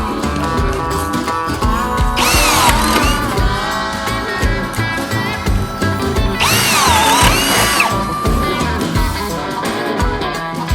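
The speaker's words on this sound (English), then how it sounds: "use a 1/2 inch drill bit to drill them out." A power drill whines continuously at close range, drilling pilot holes with two louder bursts where the motor pitch rises and strains as it bites into material.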